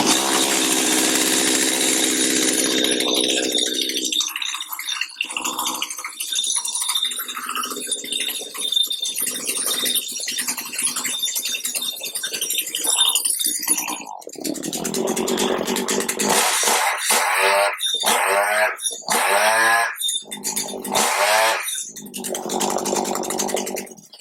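A Stihl HL75 flex head hedge trimmer found at a yard sale is pulled to start unchoked, then fires and runs loud and close, its small two-stroke engine revving up and down with a rasping buzz.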